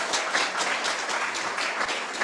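Audience at a university department head dedication and installation ceremony giving a soft, fairly distant round of applause, dense and even for a couple of seconds.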